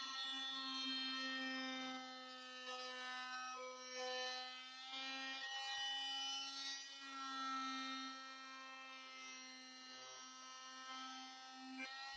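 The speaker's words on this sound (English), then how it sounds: "I'll show it in action on the example of cutting linoleum." A HILDA 220V 280W electric oscillating multi-tool with a scraper cutting linoleum, a steady, strongly tonal buzzing whine that wavers slightly in pitch as the blade works through the material.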